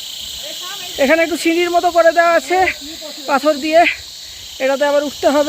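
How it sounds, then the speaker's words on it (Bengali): Someone speaks while walking up a stone-stepped forest trail, a high steady insect drone ringing through his voice, with crickets chirping in the background. "ঝিঝি পোকার ডাক শুনুন,"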